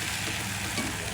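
Okra frying in a pan with turmeric, a close, steady sizzle with faint stirring scrapes, no talking.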